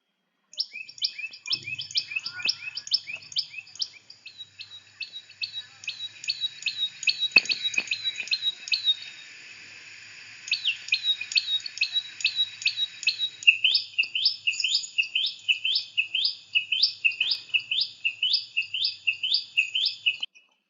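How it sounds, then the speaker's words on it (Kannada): Common tailorbird calls: bright, rapid chirping phrases repeated steadily for about twenty seconds, close and clear, with a short lull midway before the calling grows louder again. "ಟೈಲರ್ ಬರ್ಡ್, ದರ್ಜಿ ಹಕ್ಕಿ."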